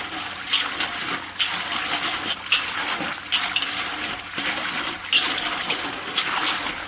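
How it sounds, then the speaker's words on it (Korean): Dirty water pouring out while wild mushrooms are washed: a steady, fairly loud rush of running water with rhythmic surges every second or so, with no voices. "구정물이 이렇게 나옵니다"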